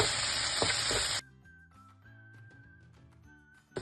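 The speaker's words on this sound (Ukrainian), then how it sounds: "Помішуючи, смажимо грудинку до шкварок." Diced smoked pork brisket sizzles loudly in a hot dry frying pan, then the sizzle cuts off abruptly, leaving quiet kitchen tones and a faint whistle.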